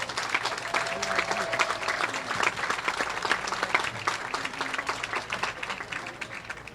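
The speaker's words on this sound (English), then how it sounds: "let's give these bowlers a great round of applause." Steady applause from a crowd at a junior bowling tournament, sustained clapping that fills the whole stretch at an even, moderate level.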